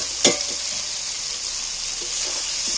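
Fried potatoes being stir-fried with spice masala in a pan, giving a steady bright sizzle with one sharp clatter of a utensil near the start.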